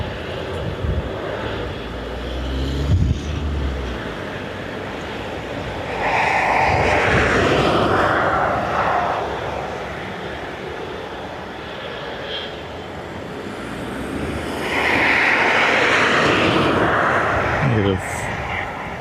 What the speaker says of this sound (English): he's coming in this plane